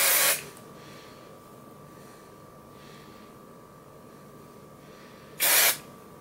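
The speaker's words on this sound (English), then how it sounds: "We're just going to spray and scrunch." Two short, loud hissing bursts of an aerosol spray, one at the start and another near the end, with quiet room tone between them.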